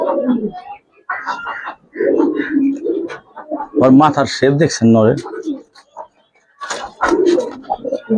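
Pet pigeons, including Giribaz and teddy types, give a run of deep, throaty coos close by, with someone talking before and after and a few softer calls later.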